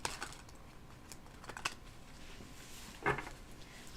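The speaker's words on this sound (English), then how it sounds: "I haven't used this deck yet, so let me shuffle it real quick." A fresh, previously unused tarot deck is shuffled during a live reading, giving soft, faint riffling and tapping of cards in a few quick bursts with no talking.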